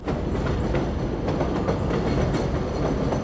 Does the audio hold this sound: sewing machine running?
no